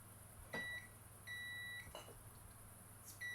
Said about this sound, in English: Oh, why it's beeping?